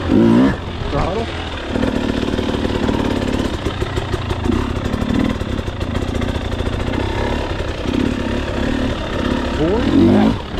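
A dirt bike engine revs hard and close while the rider jumps a log, its buzzing roar rising and falling steadily under someone talking throughout.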